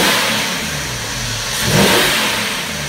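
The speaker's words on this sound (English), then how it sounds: "We're gonna give this thing a couple revs, see how it sounds." A 6.0-litre LQ4 V8 engine in a Savana 3500 idles with a broad, rough roar, then revs up briefly around the middle before easing back down; no voices.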